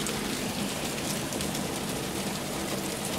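Steady heavy rain driven sideways by wind during an early morning storm, a constant dense hiss of drops hitting surfaces with no break and no voices.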